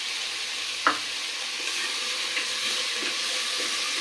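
Mint and coriander stirred in a hot frying pan for tomato rice, a steady close sizzle with one sharp scrape of the spoon early on and faint stirring movements after.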